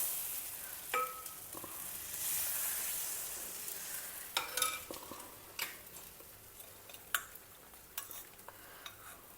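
Rava dosa batter sizzling softly on a hot tawa griddle, a quiet frying hiss broken by a few sharp clicks and taps of utensils.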